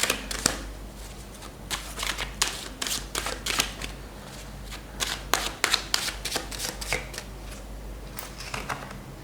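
A deck of tarot cards is shuffled by hand in repeated crisp riffles and slaps, an uneven rhythm of sharp bursts that continues throughout, close up, over a low steady hum.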